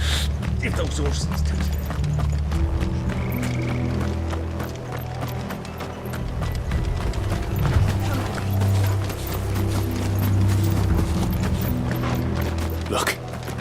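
Rapid horse hoofbeats from the video game Final Fantasy XVI clatter in a steady galloping rhythm with a low rumbling bed beneath, fairly loud and continuous throughout.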